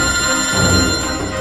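A telephone rings with a bright, steady electronic tone, loud and close, with no talking.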